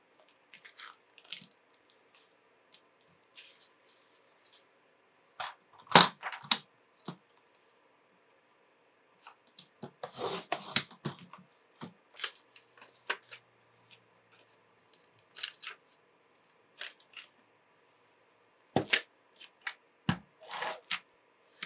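Scissors cutting the edge off a folded stack of paper for a laminated planner pocket: a series of short, close crisp snips and rustles in scattered bursts, with quiet pauses between them.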